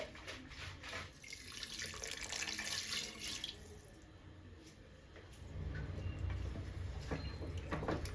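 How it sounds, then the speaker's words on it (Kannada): Water pours into a pot of chicken curry, a steady splashing stream up close that shifts in tone partway through. "ಇದಕ್ಕೆ ಬೇಕಾಗಿರುವಷ್ಟು ನೀರು ಸೇರಿಸ್ಕೊಳ್ಳೋಣ."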